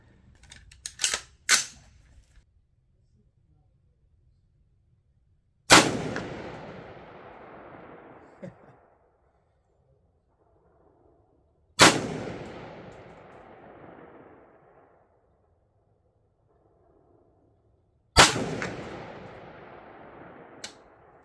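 Rifle shots ring out while a MidTen 4-12x40 AO scope is test-fired. Several sharp, loud cracks are spaced a few seconds apart, each followed by a long decaying echo, and there are some quieter clicks at the start.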